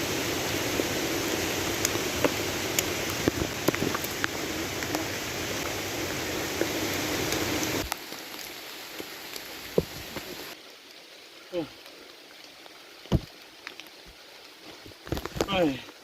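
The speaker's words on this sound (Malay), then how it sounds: "hujan memang lebat" Heavy rain pours steadily at Kem Lolo while hiking Gunung Nuang via Pangsun, a dense hiss that drops to scattered drips and louder knocks partway through.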